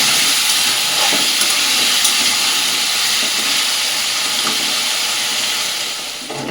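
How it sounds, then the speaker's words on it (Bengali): Potato chunks fry lightly in a pan with a steady, loud sizzle and hiss of hot oil that holds for the whole stretch and eases slightly at the end. "আলুগুলো একটু হালকা করে ভেজে নেবো আমাকে"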